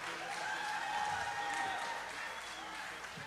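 Festival audience applauding and cheering for Chef Mark Lepine at a shellfish festival, fairly faint and distant clapping with crowd noise, some voices mixed in.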